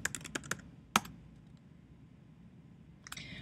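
Keys clatter on a computer keyboard during a login, a quick burst of close, crisp clicks, then a pause, then another short flurry of taps, quiet and alone.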